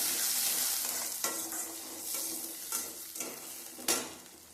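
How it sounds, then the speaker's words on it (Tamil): Small shallots sizzle in oil in a pan for a Madurai-style kuzhambu, with a utensil stirring and scraping in several distinct knocks over a steady close frying hiss, no talking. "வெங்காயம் நல்லா பொன்னிறமாக வதங்கி வரணும்"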